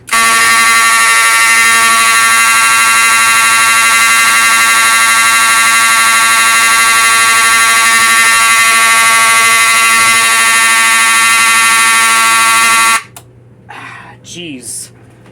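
A loud, harsh vintage Edwards fire alarm panel blares continuously for about thirteen seconds, then stops abruptly, leaving faint background noise and some brief sounds.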